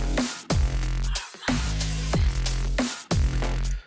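The Electech preset, an electronic beat kit in Groove Agent, plays a short pattern of punchy kicks with falling pitch and bright synthetic hits. The loud, crisp rhythm repeats about four times in four seconds.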